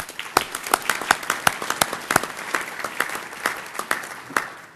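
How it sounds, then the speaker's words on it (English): Healthcare summit audience applauding honored guests, a modest group clapping with distinct individual hand claps that give an irregular, uneven rhythm, fairly close and steady for several seconds. "Let's give them a round of applause."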